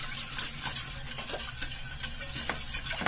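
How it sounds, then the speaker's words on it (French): A spoon scrapes and clinks through bolognese sauce seasoned with salt and pepper in a pan, with repeated short stirring strokes over a soft background sizzle. "et on remue"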